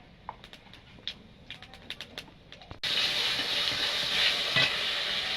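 Cumin seeds tempering in hot oil in a kadai for a Bengali fish and lau curry: after a few faint clicks, a sudden loud, steady sizzle bursts in and holds close up with a bright crackle.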